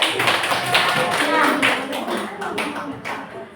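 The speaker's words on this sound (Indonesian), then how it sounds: "tepuk tangan buat" A group claps in quick, dense bursts for a few seconds, close by, the clapping thinning slightly toward the end.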